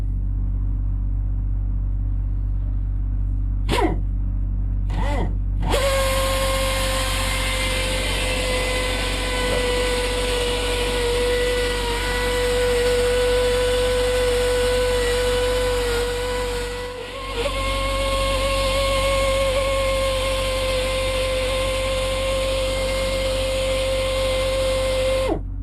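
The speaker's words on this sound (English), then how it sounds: "we have got one giant drill rigged up here" A giant drill rig runs in a two-family greystone house during plumbing work, opening with a few sharp knocks before settling into a steady droning motor whine with high tonal hum, briefly cutting out and restarting midway.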